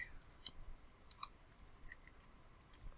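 Typing a tag on a computer keyboard, heard as scattered faint light clicks and taps at an irregular pace, quiet and close with no talking.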